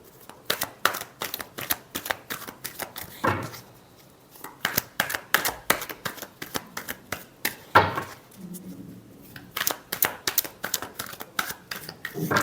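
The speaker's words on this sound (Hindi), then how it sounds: "Last shuffle." Tarot cards being shuffled by hand in a run of quick, crisp riffling bursts and soft slaps, steady and close, with a couple of brief pauses and no talking.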